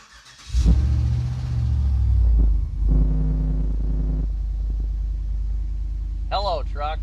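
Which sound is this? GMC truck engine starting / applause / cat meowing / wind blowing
GMC truck engine starting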